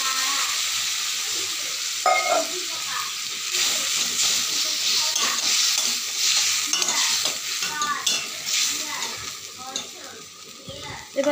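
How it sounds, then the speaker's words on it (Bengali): Water goes into a hot pan of olive chutney with caramel and sets off a loud, sustained sizzle and steam hiss, with stirring scrapes and a few soft knocks. "এবার এর ভিতরে দিয়ে দেবো একটু জল।"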